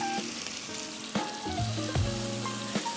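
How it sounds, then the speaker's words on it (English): A boneless pork chop sears in a hot pan, giving a close, crackling sizzle with scattered pops and the clink of a utensil stirring or pressing the meat. "You wanna hear that nice searing."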